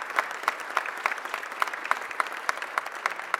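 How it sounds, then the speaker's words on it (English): Audience applause at a Philadelphia mayor's press conference for newly appointed city officials, a steady patter of clapping from a modest crowd with sharper individual claps standing out, moderately loud and without talk. "give them all a huge round of applause"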